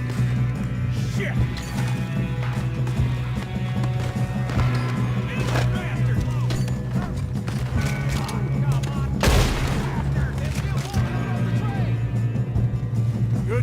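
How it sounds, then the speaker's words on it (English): Gunfire in Red Dead Redemption 2 during a shootout, sharp shots and cracks scattered over a steady low hum, close and loud, with voices talking throughout. "Good shooting, kid."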